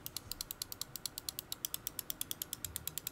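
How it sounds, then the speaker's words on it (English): Razer Basilisk V3 Pro mouse buttons clicked over and over in a fast, even series of crisp, sharp, quiet clicks with no talking. "let's click around on the rest of the Basilisk V3 Pro so you can hear how that sounds"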